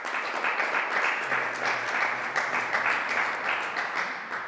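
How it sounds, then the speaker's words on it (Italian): An audience in a lecture hall claps after a talk, a sustained, even patter of many hands, fairly loud and continuous with gentle swells before easing slightly at the end. "C'è un applauso qui per lei dalle persone che sono presenti in sala"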